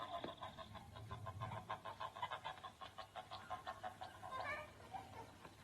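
A chicken on a farm clucks in a steady, rapid pulsing run that stays faint and somewhat muffled, with soft background noise.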